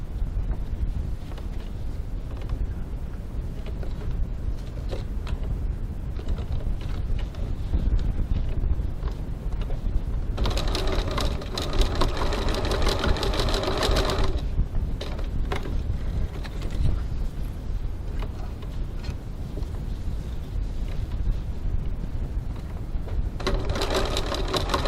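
A sewing machine stitches a crossbody bag in long, steady bursts of close, rapid mechanical whirring, with quieter pauses between runs.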